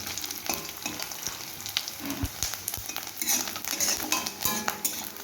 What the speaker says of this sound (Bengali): নারকেলটা আমার লাল লাল করে ভাজা হয়ে গেছে এবারে নামিয়ে নেব